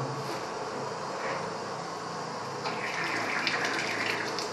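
Water runs from a broken Roca urinal in a steady, hissing stream that continues throughout and grows slightly brighter partway through, heard close up without talk.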